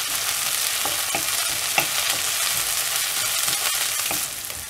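Garlic, curry leaves and coriander sauté in hot oil for a raw banana podimas, giving a steady close broadband sizzle with a few sharp spoon scrapes against the pan, easing slightly at the end.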